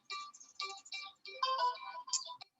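A mobile phone ringtone chirps in a quick melodic pattern of repeated tonal bursts, fairly loud and close, cutting into a physics lecture in a classroom, with brief pauses between phrases.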